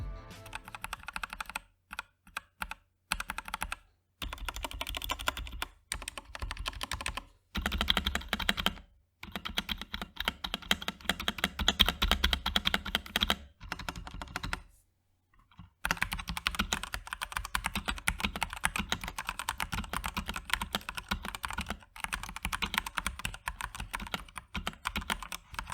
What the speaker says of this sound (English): Here's a short typing test of the stock keyboard to get an idea of how it sounds.